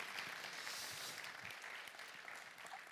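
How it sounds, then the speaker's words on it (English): An audience applauding a technical team at an environmental awards evening in a theatre, a dense, steady wash of clapping that holds throughout and eases slightly at the end. "Round of applause for them"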